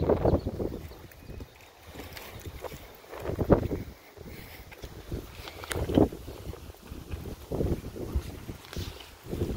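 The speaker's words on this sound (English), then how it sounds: "Even with the wind, it's still beautiful." Gusty wind blows outdoors, rumbling and buffeting the microphone in uneven surges that rise and fall throughout, with no talking.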